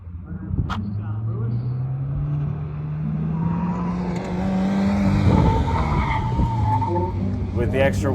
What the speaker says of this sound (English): You can definitely hear the ABS kicking in right there.